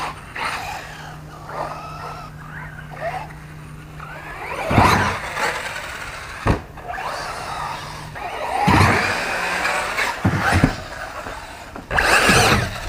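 An Arrma RC car on a mega ramp whines through repeated short bursts of acceleration, sharp high-pitched revs and tire squeals rising and cutting off at a near distance, with occasional voices.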